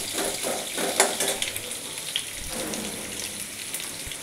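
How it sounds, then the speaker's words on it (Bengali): Potatoes sizzle steadily in a hot pan, a continuous crackling fry with a few soft stirring clinks, close by and without talk. "তাই এখন ভাজার পর্ব চলছে, এখন আমি ভাজছি।"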